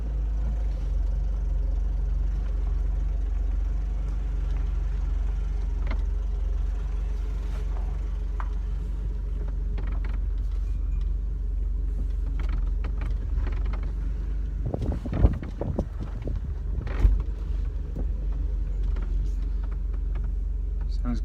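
A Mercedes SLK R170 with freshly replaced rear brake discs and pads drives slowly around the block, its engine a steady low drone with road rumble and a few brief mechanical knocks and bumps partway through.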